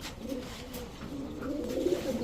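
Racer pigeons at a pigeon farm coo in low, throaty, repeated calls, close and steady throughout the short stretch.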